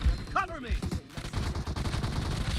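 Rapid automatic gunfire in the mobile shooter PUBG Mobile, with a burst of shots and clicks running under excited talk from players throughout.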